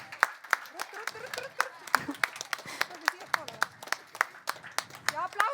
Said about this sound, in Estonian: Teeme suure aplausi meile kõigile.